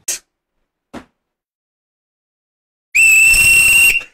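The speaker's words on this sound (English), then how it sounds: "Blow the whistle, referee." Two faint short taps, a pause, then one loud, shrill whistle blast lasting about a second, alone in silence.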